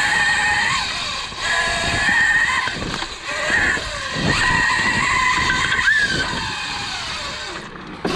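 A Kuberg Ranger electric dirt bike ridden outdoors, its motor whining in rising and falling pitch as it speeds up and slows down, with tire scuffs and skidding over dirt, moderately loud and continuous, no talk.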